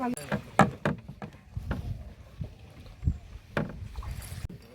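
Oars knock and splash as a rowing boat moves through the Pichavaram mangrove forest, giving irregular close thumps and water sounds with voices chatting in the background.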